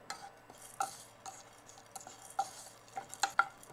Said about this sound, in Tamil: இதோட சீரகம், இதையும் மிதமான தீயில வச்சு நல்லா வறுக்கணும்